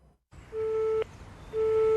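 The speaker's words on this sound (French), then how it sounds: "C'est le téléphone fixe donc, qui répond aux abonnés absents." A French landline telephone plays its unavailable-subscriber tone: steady, sustained electronic tones that cut off briefly near the middle and then resume, clear over a faint background hiss.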